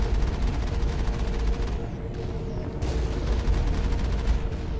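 Slow-firing turret shots in Mass Effect crackle in a dense, continuous barrage, loud and close, with rapid overlapping bursts and no clear gaps.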